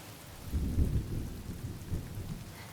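Rain and a low, rolling thunder rumble in the video game Honkai Star Rail, a brief muffled roll swelling and fading over steady rainfall.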